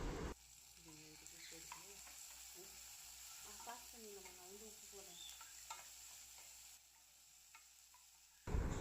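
Chopped tomato and asafoetida being stirred and fried in a pan for capsicum chutney, with a soft, steady sizzle and intermittent scraping stir strokes, heard close and quiet.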